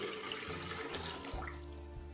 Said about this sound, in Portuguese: Acrescente no liquidificador a água fria